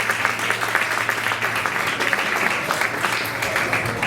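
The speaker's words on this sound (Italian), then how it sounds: "Un bel applauso, grazie." At a regional beauty pageant final, the audience claps in a sustained, fairly loud wave of applause for about four seconds with no one speaking over it.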